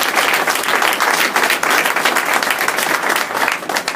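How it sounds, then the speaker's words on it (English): A civic audience in Rochester breaks into loud, close applause, dense and continuous clapping from many hands with slight swells and dips across the few seconds, with no speech over it. "Let's please give him a round of applause."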